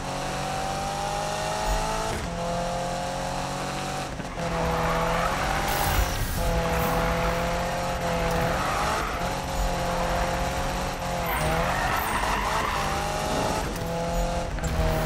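A racing car in Need for Speed 2015 drifts steadily, its engine holding a droning, wavering note under long stretches of tire squeal and skidding that rise and fall across several slides.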